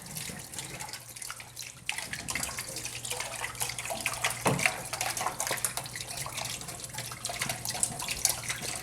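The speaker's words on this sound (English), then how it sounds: "Done with that funnel. Give them a nice rinse." Tap water runs steadily into a sink while a funnel used for grape juice water kefir is rinsed under it, a close continuous splashing rush with small clatters of the plastic shifting under the stream.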